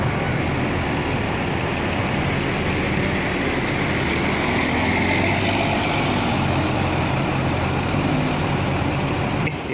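A Mercedes tri-axle Gunung Harta coach bound for Blitar and Tulungagung pulls away, its heavy diesel engine rumbling steadily and loudly throughout amid broadband traffic noise, with no voices.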